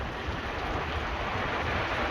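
Steady hiss of rain falling on and around a small shelter, constant and even with no pauses, moderately soft.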